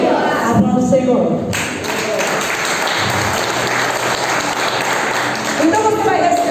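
A church congregation applauding during a sermon, a loud, dense burst of clapping filling the middle of the clip, with voices and some music-like tones at the start and end.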